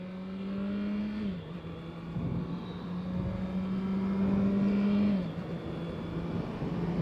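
Honda motorcycle engine droning steadily during a ride, its pitch holding then dropping twice as the rider shifts, with constant wind and road rumble underneath and no talking.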